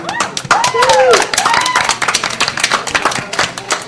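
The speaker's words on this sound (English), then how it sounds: "Can we get a round of applause, everybody?" Loud, dense clapping from a small crowd with a few voices calling out over it, continuing steadily throughout.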